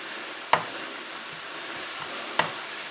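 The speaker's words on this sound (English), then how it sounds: "It only takes just a few seconds for that garlic to get warmed up" Garlic warming in a frying pan for shrimp fried rice gives a soft, steady sizzle, broken by two sharp clacks of a utensil stirring against the pan, with no voices.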